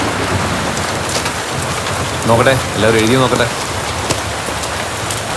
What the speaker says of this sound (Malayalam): ഓ മഴ തുടങ്ങിയല്ലോ സാറേ.